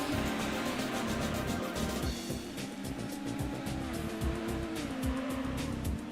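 Race cars in Gran Turismo 1, loud, constant engine roar with tire squeal and skidding as cars jostle close together in a short burst of racing.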